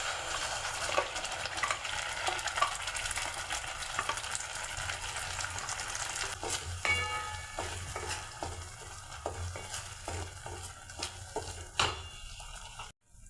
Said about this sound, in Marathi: या ठिकाणी आपण वाटण कढईमध्ये परतून घेणार आहोत।